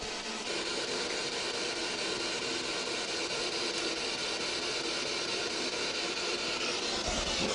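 Radio white noise hisses during a ghost hunt inside a cave, a steady, loud, broadband static wash with no gaps that continues unchanged throughout, no voices heard.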